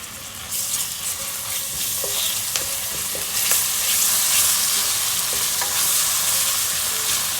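Garlic ginger paste sautéing in a pan for tomato rice, with a loud, steady close sizzle and a few clicks and scrapes from a stirring utensil, growing slightly stronger partway through.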